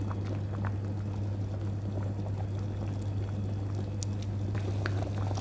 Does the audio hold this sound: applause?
no